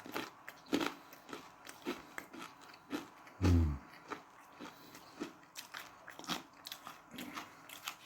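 Crunchy French bread bitten and chewed close up, with sharp crackling crunches, one loud bite near the middle and repeated chewing crunches throughout, no talking.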